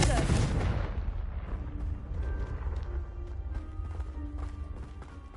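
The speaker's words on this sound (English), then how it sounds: "Confringo!" A Confringo fire spell bursts in Hogwarts Legacy with a heavy, loud explosion up front, followed by a rumbling, crackling tail that slowly fades over several seconds.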